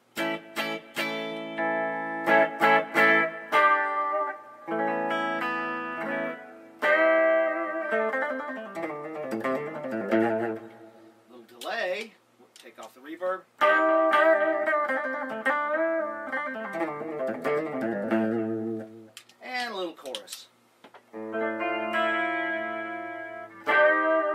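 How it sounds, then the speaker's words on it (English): An electric guitar plays chords and single notes through an X-40 amp, each phrase ringing out with a reverb tail before fading into brief pauses. "you can hear what it sounds like with a little reverb"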